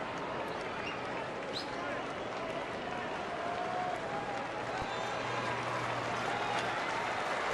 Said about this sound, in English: Another sellout crowd,